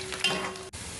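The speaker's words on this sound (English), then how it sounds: "add my onion into the pot and then give it a good stir for a few seconds" Chopped onion is stirred into groundnut soup in a pot, a brief close scraping and swishing stir with a light sizzle.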